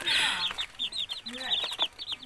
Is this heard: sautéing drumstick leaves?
no